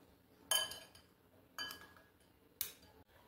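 Fried potatoes tossed with salt, black pepper, chili powder and oil in a bowl, giving three separate clinking scrapes of utensil against the bowl, each a sharp bright hit that fades, in a quiet kitchen.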